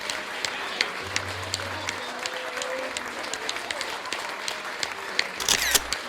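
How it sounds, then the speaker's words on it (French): Applause at a winter festival awards ceremony in Sainte-Julienne: scattered, moderate clapping from a modest crowd, with camera shutter clicks and a brief burst of handling noise near the end. "Oui, ça vaut une bonne main d'applaudissements"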